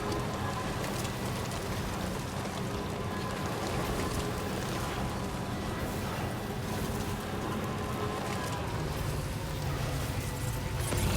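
Steady rain in the video game Death Stranding 2, a dense, even hiss of falling water that runs loud and unbroken throughout with a low rumbling bed beneath it.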